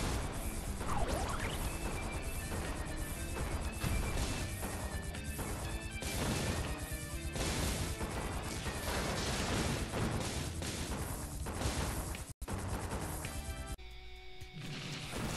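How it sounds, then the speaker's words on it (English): Dense, continuous blasts and crashing impacts of depth bomb explosions in the shoot-'em-up R-Type Final 2, loud and layered with whooshes and game music, ending in a brief dropout and thinner tail. "The depth bomb, which is more of a bomb than a missile, is a bomb that's dropped straight down."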